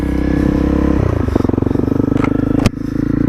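A Honda CRF motorcycle engine rumbles close by on a forest trail in Scotland, with a throaty idle that picks up into pulsing revs and a brief clatter.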